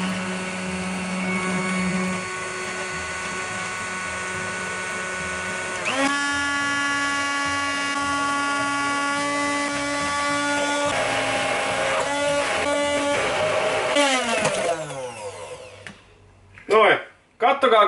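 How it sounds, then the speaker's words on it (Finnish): An immersion blender whirs steadily while mixing homemade mayonnaise, its motor pitch shifting as the speed is raised, then sputtering and cutting off with a few clattering bursts near the end. "mä ihan pikkuhiljaa rupeen nostamaan tätä sauvasekoitinta tältä ylös"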